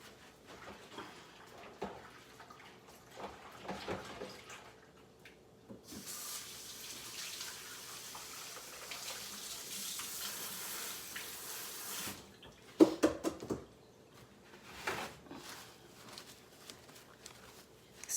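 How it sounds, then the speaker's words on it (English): Hands are washed under a running kitchen sink tap while cooking salmon patties. The water rushes steadily for several seconds, then shuts off, followed by a few knocks and handling sounds. "Hold on, let me wash my hands"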